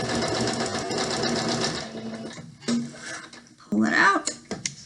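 A sewing machine stitches a French seam on a pillowcase, running in a steady whir for a couple of seconds, then in short bursts for backstitching, while someone talks through the steps.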